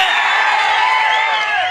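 A live comedy show audience in Jamakhandi region greets a performer with loud, dense crowd noise, cheering and clapping blended into a steady roar that fills the whole moment without a break.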